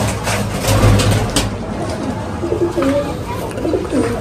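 Kamagar pigeons coo in a low, throaty murmur over a steady low engine-like hum, with some faint rustling in a loft setting.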